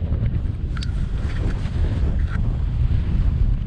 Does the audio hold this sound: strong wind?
yes